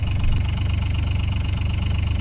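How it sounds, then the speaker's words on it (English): A Moody 33 sailboat's marine engine idles steadily while warming up, a close, loud, even low-pitched chug with a regular knocking pulse running throughout, no voices. "Time to warm up the engine"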